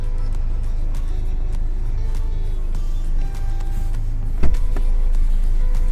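A 2009 Renault Scenic 2 with the 1.5 dCi K9K diesel idles steadily, a close, loud, even engine drone with a faint rhythmic clatter, interrupted once by a short thump.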